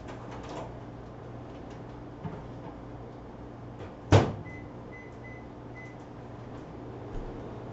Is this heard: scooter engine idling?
no